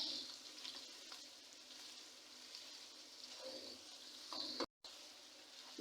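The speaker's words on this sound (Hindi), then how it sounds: "अब मैं इसमें ऐड करूँगी गाजरें। थोड़ी देर के लिए मैं इसको भी ऐसे फ्राई करूँगी।" Carrots fry with browned chicken in a pan, producing a soft, steady sizzle with occasional stirring scrapes, faint and close, cut briefly by a moment of silence near the end.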